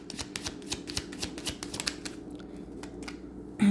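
Tarot cards being shuffled and drawn, a close, rapid run of crisp riffling flutters in quick bursts that ends in a soft, louder thump.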